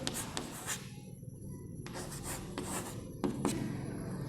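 Marker or chalk writing on a board during a maths lesson, a close series of short scratchy strokes in irregular bursts with pauses between them, no voices.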